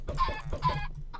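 Blocky Minecraft chickens on a chicken farm cluck in quick bursts, two close clusters of clucks followed by a short final squawk, loud and near with no talk over them.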